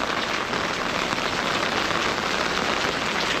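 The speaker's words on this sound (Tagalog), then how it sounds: "lakas ng ulan." Heavy rain in Taiwan's rainy season pours down in a dense, even hiss of drops hitting surfaces, loud and unbroken, with no voices over it.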